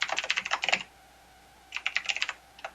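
Fast bursts of clicking keystrokes on a computer keyboard while writing C# code, a rapid run of typing, a pause, then another shorter flurry, close and clear with no talking.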